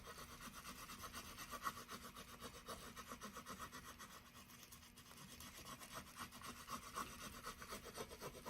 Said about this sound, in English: Start rubbing.